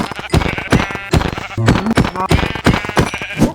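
Sheep in the Minecraft video game bleat repeatedly, loud and close, their wavering calls overlapping with sharp thumps and clicks of game action in a busy, rapid sequence.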